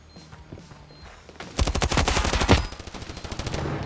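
In a Standoff 2 match, a crouching enemy fires a rapid automatic burst of gunshots for about two seconds, loud and close, with lighter shots trailing after.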